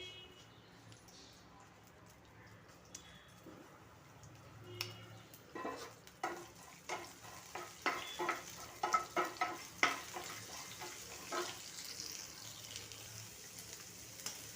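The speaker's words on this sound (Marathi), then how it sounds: "आता हे मंदाच्यावर आहे ना थोडंसं असं फ्राय करून घेते" Food frying gently in a pan over a low flame, a faint soft sizzle under a run of clustered scraping and tapping sounds in the middle, with no talk.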